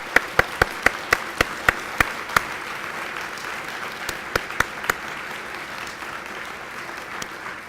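Lecture audience at a distinguished lecturer event applauds, a soft steady wash of many hands with a few crisp, close individual claps ringing out in a loose rhythm before fading.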